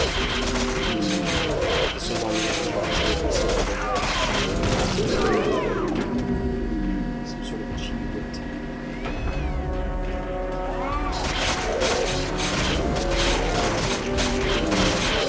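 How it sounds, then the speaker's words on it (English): Injector gun shots in the PlayStation 2 shooter Timesplitters Future Perfect, with mutants bursting apart amid loud, dense game sounds, music and crashes, the bursts of firing stopping midway and then resuming. "it's fine for you to shoot them with an injector gun that makes them blow up"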